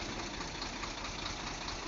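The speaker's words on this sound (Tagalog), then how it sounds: "Kaya tahimik yung makina mga sadik" A diesel truck engine idles with a steady, low hum and rattle, continuous, with no voices over it.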